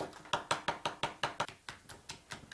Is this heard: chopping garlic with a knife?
yes